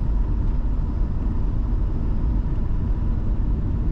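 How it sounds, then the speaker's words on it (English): A 1984 Dodge D150 Power Ram Royal SE Prospector 4x4 pickup driving on a road, heard from inside as a steady low rumble of engine and road noise that holds even throughout, with no voices. "You get a nice ride from this truck."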